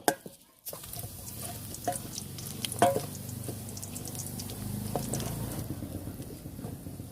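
Pork fat rendering in a pan for pork cracklings, a steady low sizzle and crackle with scattered pops and occasional stirring clinks, fairly quiet and close, after a sharp opening knock.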